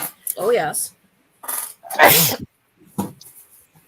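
A single sharp sneeze bursts out in a quiet room during a casual live chat, close and loud, among brief snippets of talking voices.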